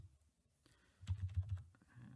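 Short burst of typing on a computer keyboard, a handful of soft, quick key clicks close by after a quiet start, faint overall.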